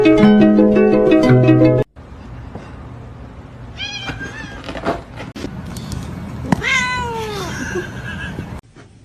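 A pet cat meows several times in a short series of rising and falling cries, close to the microphone, after a burst of music at the start, with faint background noise between the calls.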